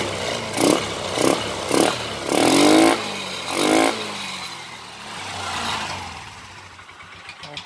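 Carbureted motorcycle engine with the throttle cable removed, revved by hand in a run of four or five short, loud bursts that rise and drop back, then settles into a rougher, quieter idle.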